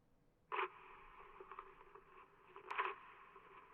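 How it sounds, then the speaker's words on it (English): Paper being torn, an electric bill ripped up as a sound effect in the game Kentucky Route Zero, with a sharp rip at the start and another near the end and softer crinkling between, close and quiet, with no talking. "That was someone tearing up an electric bill."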